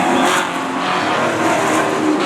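A race car engine roars loudly past at Stafford Speedway during a kids night event, a dense continuous engine drone with tire noise that stays close and loud throughout.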